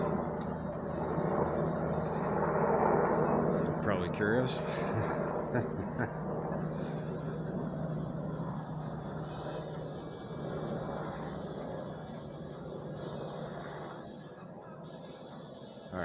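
A low, broad mechanical rumble of a military helicopter passing above, swelling and slowly fading, with a few spoken words mixed in.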